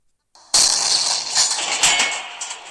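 A tank gun fires in the Roblox WW2 Tank Simulator game at a German base, a loud, close blast that cuts in abruptly after near silence and rolls on in a long, rumbling tail.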